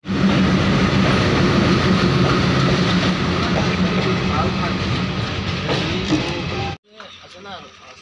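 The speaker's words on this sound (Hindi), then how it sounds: "अभी ट्रेन भी आ चुका है, देख सकते हो उधर पहुंच गया" A train arrives at a station with loud rumbling and rattling wheels close by, a rushing mechanical roar that cuts off near the end, with people talking over it.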